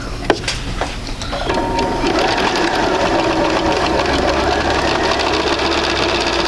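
A sewing machine stitches a quilt block, starting with a few clicks and then running in a steady, close, mechanical whir for several seconds without talking.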